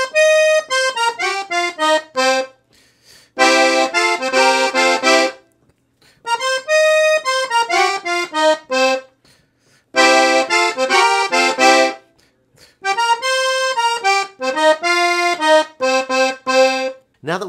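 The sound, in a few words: blues call phrase twice, then response phrase, on piano accordion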